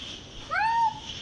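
A single cat meows once, a short rising-then-falling cry, fairly close and clear against faint background hum at an airport animal facility.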